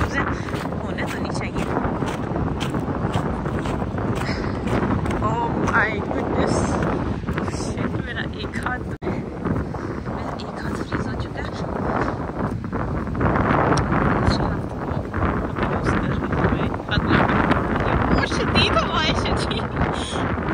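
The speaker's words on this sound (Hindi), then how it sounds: "गाइस इतनी तेज़ हवा थी, इतनी ठंड थी" A strong, cold wind in Sweden buffets the microphone in continuous gusty roars and rumbles. Voices can be heard faintly beneath it.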